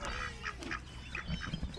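Several ducks being fed outdoors quack in quick, overlapping bursts, fairly close and steady over a low background hum.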